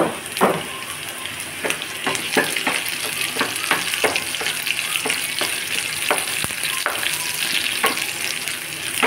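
Two dried red chillies crackle in hot tempering oil with onion and garlic for a bottle gourd dal, a continuous close sizzle punctuated by regular sharp clicks and scrapes of stirring.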